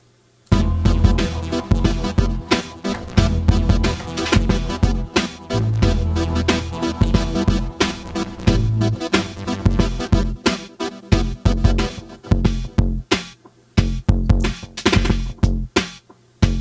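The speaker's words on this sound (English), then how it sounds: "okay, so that's our drum beat right there." A loud, busy programmed drum beat from the Softube Heartbeat drum instrument, with punchy kicks and crisp hits repeating in a steady pattern throughout, no voices.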